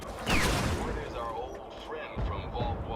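A blast in Fallout 3 bursts out at about a quarter second, a loud booming hit followed by a long rumbling, crackling tail of debris, with a voice murmuring over it.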